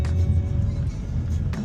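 BMW M3 rolling slowly along a muddy dirt road, a steady low engine and tire rumble with a brief sharper knock near the end, close and continuous with no talking.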